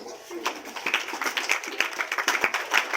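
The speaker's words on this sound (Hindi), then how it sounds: "सही है तो ताली बजाइए।" Scattered audience clapping during a teacher's motivational talk in a Bihar hall, uneven sharp claps spread through three seconds with a voice or murmur running underneath.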